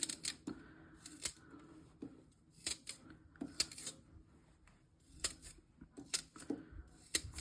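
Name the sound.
cutting rhubarb for a crumble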